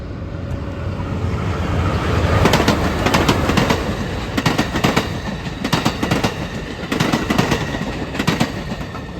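An Amtrak Capitol Corridor train led by an SC44 locomotive rolls past up close, its wheels beating a loud, rhythmic clickety-clack over rail joints with bursts of metallic rattle throughout.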